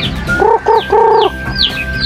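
Hens clucking close by, a short run of rising, nasal calls in quick succession with softer bird chatter in the background.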